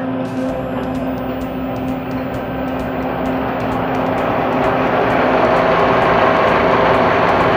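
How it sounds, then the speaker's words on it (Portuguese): A film projector in the projection tower of the Nilson Prado Telles cultural centre runs with a loud, steady mechanical whir and hum that swells slightly over time, with faint rhythmic ticking in the background and no talking. "Vamos ligar agora o projetor."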